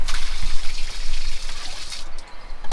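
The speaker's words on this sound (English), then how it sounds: "We are just emptying our grey water now" Grey water draining from a motorhome's tank at a campsite, a steady close trickling and splashing flow that runs throughout, easing slightly near the end.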